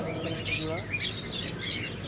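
Yellow-headed, red-eyed lovebirds in a pet shop give short, bright chirps and tweets in small bursts, close by, while a voice talks over them.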